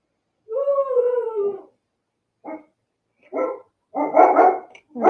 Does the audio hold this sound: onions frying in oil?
no